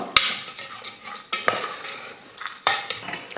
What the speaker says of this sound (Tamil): அரிசி பருப்பு சேர்த்ததுக்கப்புறம் 1 நிமிஷத்துக்கு இந்த நெய்யிலே நல்லா வறுத்துக்கலாம்.